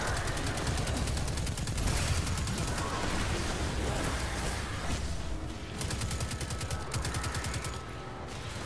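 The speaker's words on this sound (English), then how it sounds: "What's behind me and shooting?" Rapid automatic weapon fire in Destiny 2, a steady rattling stream of shots that carries on almost unbroken, fairly close and moderately loud.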